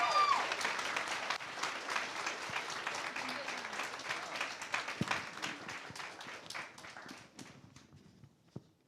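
Audience at a graduation ceremony on a Barcelona campus applauding, a dense wash of many hands clapping that gradually thins into scattered claps and fades out.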